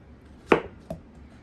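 A knife cuts through fruit on a cutting board while preparing fruit salad, two crisp close chops about half a second apart against a quiet room.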